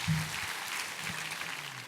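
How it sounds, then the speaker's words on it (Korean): A church congregation claps in steady applause, a dense patter of many hands at moderate volume, with no speech over it. "우리 하나님께 감사와 영광의 박수 올려드리겠습니다"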